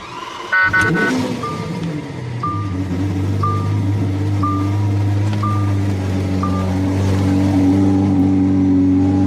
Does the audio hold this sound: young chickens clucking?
no